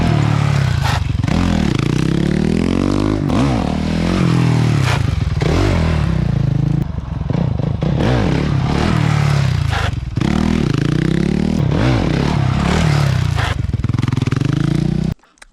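Motorcycle engine revving hard and continuously at close range during a wheelie attempt, with rising and falling pitch sweeps and brief dips between throttle bursts, loud throughout with clattering mechanical noise.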